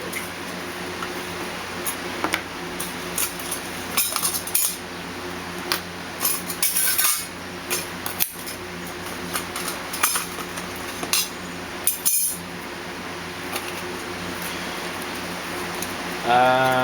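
Metal pieces of a homemade camp cook set, including a fire grate and a cut-down coffee can, clink and tick as they are unpacked, with scattered light knocks and rattles across the whole stretch.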